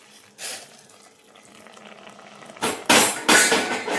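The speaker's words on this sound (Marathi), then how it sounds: "थोडंसं गरम पाणी टाकून घेऊ" Hot water poured into cooked dal khichdi in a pot, a short splash early on, then louder gushing pours building toward the end, close and without talk.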